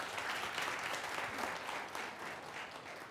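Dense, even clapping fills a business growth seminar hall for several seconds, heard at a moderate distance with no speech.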